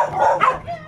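A dog gives a short bark or yip, a single brief, close vocal burst with a quick second yelp, heard at a building site where a second floor is under construction.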